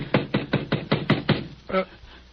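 About seven firm knocks on a door land in a quick, even series, loud and close, followed by a short spoken exclamation in an old radio detective drama.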